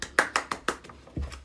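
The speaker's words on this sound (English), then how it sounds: "we're gonna clap for myself" A single person claps her hands alone, about six sharp, fairly even claps spaced roughly a fifth of a second apart, close to the microphone in a quiet room.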